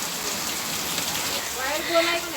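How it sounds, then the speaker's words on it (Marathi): Steady, dense rain patters continuously on surfaces, a constant hiss filling the background. "बाहेर केवढा मोठा पाऊस आलाय"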